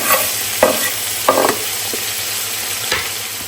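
Sliced onions hiss in hot oil in a pan, a close, steady sizzle broken by a few light knocks from stirring.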